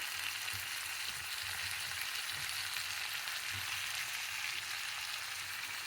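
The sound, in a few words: chana dal frying in a pan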